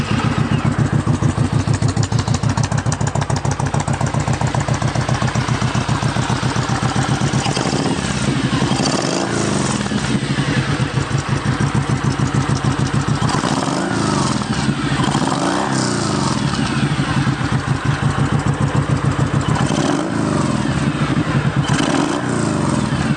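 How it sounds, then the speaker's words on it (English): A Kawasaki Vulcan 1700 Vaquero V-twin with Vance & Hines exhaust pipes runs loud and close, a continuous throbbing rumble with several blips of the throttle swelling and settling throughout. "Let's crank it up and let you hear what those Vance & Hines pipes sound like."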